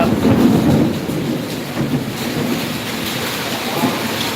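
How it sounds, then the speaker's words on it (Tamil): Heavy rain with thunder, a dense broadband wash of falling water with low rolling rumbles swelling and fading throughout, no speech over it. "சரியான மழை பெய்யுது"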